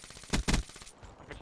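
Video game gun firing two short loud bursts close up, followed by quieter scattered shots and game noise.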